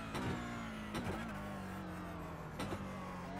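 A Porsche 992 Cup race car at Sebring in the iRacing sim brakes and accelerates, its engine note rising and dropping with several sharp downshift blips, loud and close, with no talk.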